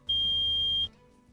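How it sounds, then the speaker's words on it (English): Carbon monoxide detector alarm in a 2000 Newmar motorhome, one loud, steady high-pitched electronic beep lasting just under a second, heard close and alone. "When activated, the CO warning sounds like this."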